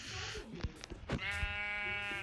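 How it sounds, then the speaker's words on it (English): Sheep bleating in the video game Minecraft, two long wavering bleats with a few sharp game clicks and thuds between them, loud and close with no talking. "I'm going to have to kill your sheep"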